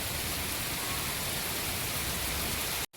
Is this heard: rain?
yes